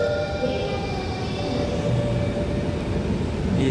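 An extra Port Liner train pulls into the station, making a steady, loud rolling rumble with a sustained mechanical whine and hum. The noise holds throughout and no voices are heard.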